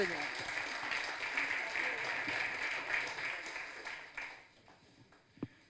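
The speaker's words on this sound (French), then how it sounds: "On peut les applaudir." Audience at a workplace feedback session applauding a hospital site's management team, steady sustained clapping from a sizable crowd that fades out near the end, followed by a single sharp knock.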